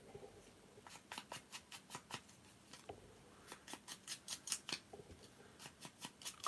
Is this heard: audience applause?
no